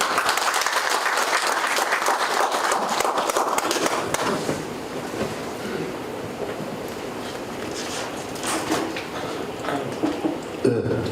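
Audience applause at a community revitalization forum: a dense, sustained round of clapping from a crowd in a hall, strongest at first and then easing slightly.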